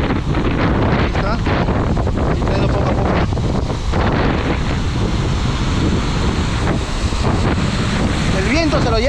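Strong wind buffets the microphone beside the water during a spinning-rod fishing outing, a constant rushing roar with waves underneath and voices talking intermittently.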